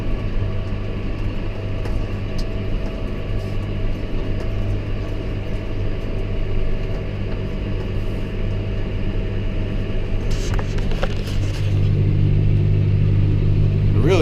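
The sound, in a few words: tractor engine running while working a field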